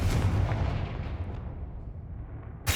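A blasting spell in the video game Hogwarts Legacy booms like artillery, a heavy explosive rumble that decays over a couple of seconds before a sharp new impact at the end.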